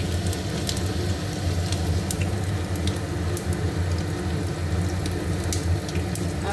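Garlic and spices fry in hot oil in a close, continuous, fairly loud sizzle over a low steady hum, with faint crackles and no speech.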